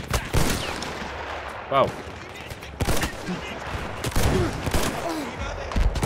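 Automatic rifle gunfire in Battlefield 1 comes in repeated sharp bursts, some close and loud, with a voice briefly speaking among the shots.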